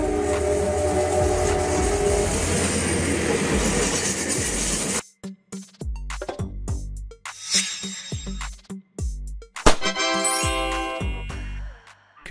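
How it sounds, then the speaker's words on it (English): A double-decker passenger train rolls past with steady, loud running noise for about five seconds. Then come sharp, rhythmic wheel clicks and clunks over rail joints, along with a high squeal or horn-like tones near the end. "Double-decker train, a train with two levels of passenger seating, designed to carry more passengers than a standard train."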